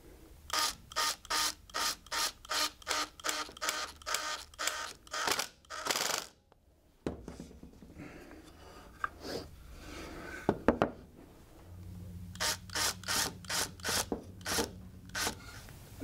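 Screws driven by hand into wooden legs of a small table built from recycled materials: close, rhythmic rasping bursts in a steady run, a quieter stretch with scattered knocks, then another rhythmic run, with no talking.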